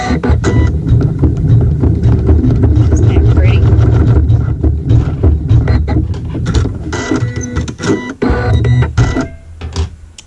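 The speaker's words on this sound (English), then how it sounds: "the machine will sew a tack down stitch" A sewing machine works through a tack down stitch on fabric, a close, busy rattle of needle and mechanism that runs steadily, with a voice talking over part of it.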